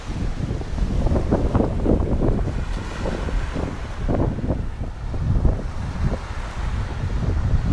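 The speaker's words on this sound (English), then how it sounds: "And there's the ocean." Ocean surf and strong wind at a beach in Akumal, Mexico, with waves washing in repeatedly and gusts buffeting the microphone in a steady, loud roar.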